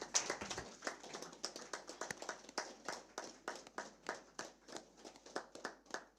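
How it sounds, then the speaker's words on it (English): A standing group at a regional government address in Omusati, Namibia claps hands in a steady, rhythmic beat, each clap crisp and evenly spaced, moderately distant with no talking. "May we rise, clapping hands for him."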